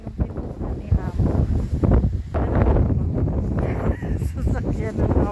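Strong gusting wind roars steadily across the microphone outdoors in snowy weather, a dense, continuous rumble with surges that covers the whole stretch while a person talks over it.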